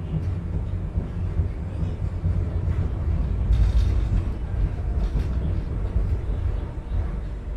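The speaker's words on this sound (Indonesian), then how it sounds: "kereta api Kaligung yang saya naiki telah tiba di stasiun Tegal" Kaligung passenger train pulling into Tegal station, a steady loud low rumble of rolling wagons that swells briefly midway, with no voices on top.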